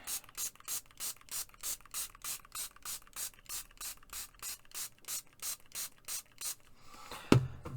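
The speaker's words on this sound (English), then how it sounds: "I'm going to spray the whole thing" A spray bottle squirts water onto paints in a steady run of about twenty quick hissing pumps at an even rhythm, close and distinct, followed by a brief clatter at the end.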